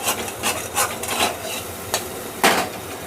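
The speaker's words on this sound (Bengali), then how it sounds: "খুন্তি দিয়ে এরকম করে কুচো কুচো করে নেবেন" A khunti spatula chops a cooked omelette into small bits in a pan while making street-style mixed chowmein at home, giving close scraping rubs and a few sharp metallic taps, with no talking.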